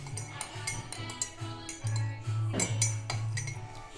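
A spoon clinks against a cup while stirring a homemade kashaya herbal drink with tulsi, giving light, scattered metallic taps over a low background hum.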